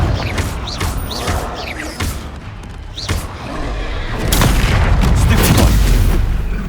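Confringo spell explosions boom in Hogwarts Legacy combat, several heavy blasts with rumbling, crackling debris close in the mix and a louder, sustained roar toward the end.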